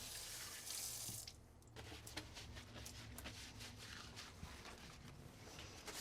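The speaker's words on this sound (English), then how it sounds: "once you've finished washing, use warm water to rinse your hands" Warm tap water runs into a sink as hands are rinsed, a steady close splashing stream with small irregular patters and splashes over the top, with no voices.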